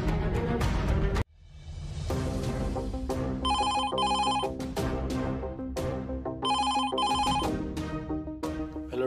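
A telephone rings at a police station in Dombivli, a loud electronic ringtone repeating in bursts over a busy background of music-like sound, close and insistent, with no one speaking.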